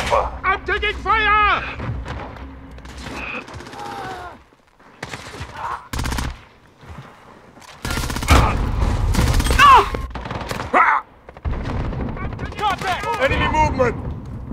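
Bursts of gunfire and explosions from a hardcore Domination match of Call of Duty: Modern Warfare (2019) on the Rust map, in loud clustered volleys with gaps between them, while voices talk over the action.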